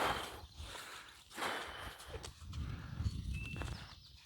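A horse moves along with soft, irregular hoof steps and some shuffling, heard fairly close in an outdoor setting with no talking.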